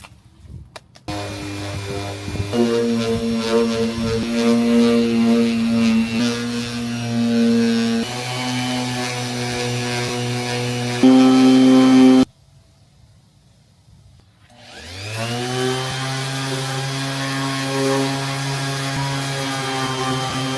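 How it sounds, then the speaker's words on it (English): A power sander works on a car body to smooth it before wrapping, a loud steady whine with a strong motor tone that shifts pitch as it moves, stops abruptly for a couple of seconds, then spins back up. "I do have to take a sander and sand down all of that, or it will show through the wrap"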